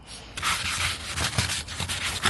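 Rough, rhythmic scratching of sandpaper against a Toyota Aygo's painted front bumper, steady back-and-forth strokes close up, with no voices.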